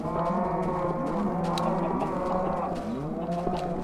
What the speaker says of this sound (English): Since when did you guys start making cow noises?